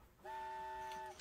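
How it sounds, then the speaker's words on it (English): A train horn sounds in the video game Inside, one sustained harmonic blast lasting under a second, clear and alone against a quiet background. "That was the train horn."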